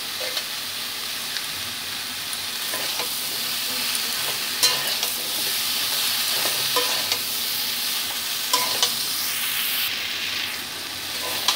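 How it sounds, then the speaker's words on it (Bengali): Mixed vegetables for a Bengali niramish torkari fry over a low flame, a steady soft sizzle running throughout with repeated scraping stir strokes of a spatula against the pan at irregular intervals. "লো ফ্লেমে আমি বারবার করে নেড়ে চেড়ে ভেজে নিচ্ছি।"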